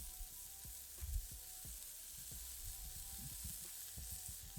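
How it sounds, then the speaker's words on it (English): Smashed beef burger patties sizzle in their own grease on a Pit Boss griddle, a soft continuous frying hiss with scattered pops and crackles, fairly quiet and without talk. "All that's doing is frying in its own grease"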